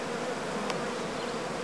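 A honeybee swarm crawls and flies into a hive super box, producing a steady, moderately close drone of many buzzing bees with no talking.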